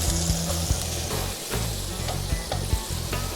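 French shallots hitting hot olive oil with a rosemary sprig in the pan give a loud, continuous close sizzle, with a few soft stirring knocks and no voices.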